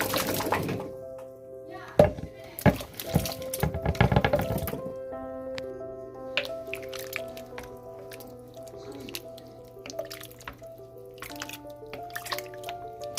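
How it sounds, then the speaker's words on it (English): Chunked potatoes added to a beef stew pot: a run of wet splashes and thunks as pieces drop into the liquid, followed by quieter bubbling and occasional drips, close by. "We got our potatoes chunked out pretty nice."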